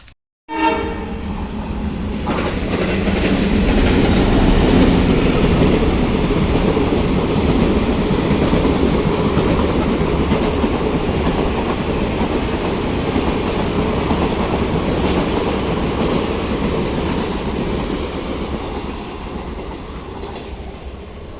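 A train rumbles past at close range for about twenty seconds, wheels clattering steadily with a faint horn, then the noise slowly fades.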